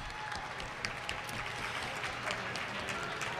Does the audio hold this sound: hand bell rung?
no